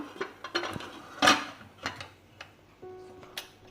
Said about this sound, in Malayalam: ഇനി നമുക്ക് കുക്കറൊന്ന് മൂടാം